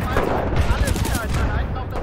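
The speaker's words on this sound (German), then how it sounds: "da gab es einen Scharfschütze" Gunfire in Titanfall 2, a rapid, close burst of repeated shots layered with heavy battle noise, with a voice partly audible underneath.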